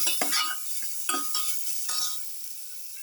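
A chicken liver mixture is stirred in a pan with a utensil, producing several scraping, clattering strokes over a soft steady sizzle, close and fairly quiet.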